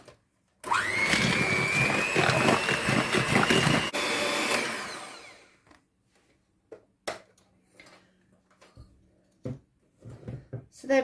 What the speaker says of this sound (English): we're just going to give that a quick blast with the mixer.